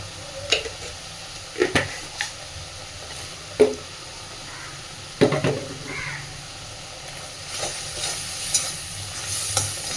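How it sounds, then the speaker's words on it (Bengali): Spice paste for a cauliflower and prawn curry fries and sizzles steadily in a pan while a spatula stirs and scrapes it in irregular strokes, close and fairly loud, with no voices. "খুব সুন্দর করে এবার মশলাটা একটু কষে নেব।"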